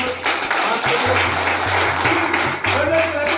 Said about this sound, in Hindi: ये तालियां हमारे अपने लिए हैं।